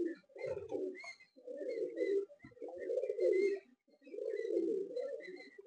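A Malwai pigeon coos close by in four long, rolling phrases separated by short pauses.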